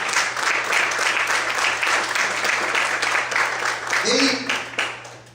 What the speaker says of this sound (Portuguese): Você merece um aplauso.